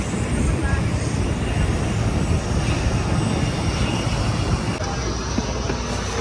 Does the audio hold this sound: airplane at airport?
yes